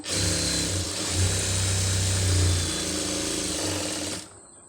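A sewing machine runs continuously, stitching a folded hem in one steady, loud, close burst with a slight dip midway before stopping abruptly.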